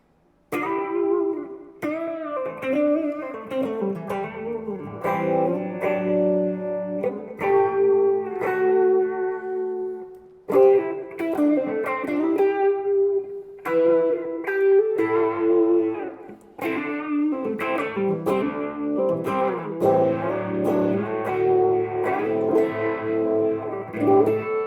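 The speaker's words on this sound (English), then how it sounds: "I love using this Phase 45 setting with a drive with a little bit of delay." Electric guitar played through a Phase 45 phaser with overdrive and a touch of delay, sweeping and slightly gritty, in sustained chords and melodic runs with a swirling, echoing tail. Loud, close and continuous, with no speech.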